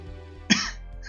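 A single short cough from a character in the courtroom game Apollo Justice: Ace Attorney, sharp and close over a quiet background.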